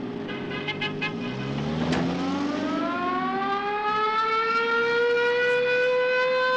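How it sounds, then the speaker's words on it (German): An ambulance siren swells and wails steadily, its rising tone loud and close, with a brief honk-like burst early on and no voices. "gleich kommt ein Krankenwagen durch"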